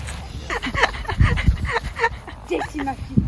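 Dog Jessie giving short yips and barks up close, mixed in with people talking nearby, the calls coming in uneven bursts across a few seconds.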